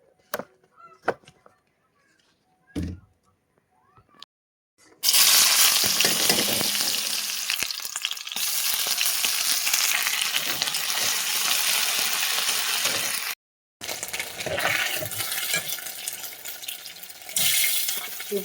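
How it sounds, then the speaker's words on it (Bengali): Bitter gourd and potatoes hit hot oil in a pan and fry with a loud, steady sizzle after a few quieter handling knocks, the hiss briefly breaking off once before resuming strongly. "উচ্ছে আলু ভাজা করে নিচ্ছি।"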